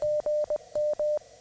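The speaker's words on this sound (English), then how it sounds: "That's good morning." Morse code CW sending GM, good morning, as a clear single-pitch tone keyed in two quick groups of long and short beeps, heard alone.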